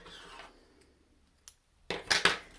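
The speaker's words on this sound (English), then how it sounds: "So I'm just going to cut a length of it off." Embroidery thread snipped to length with scissors while preparing a woven wall hanging on a loom: a quiet rustle, then a few close, crisp snips near the end, with no talking.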